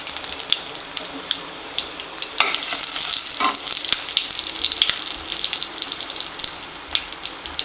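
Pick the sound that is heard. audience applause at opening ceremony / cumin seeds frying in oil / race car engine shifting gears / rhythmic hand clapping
cumin seeds frying in oil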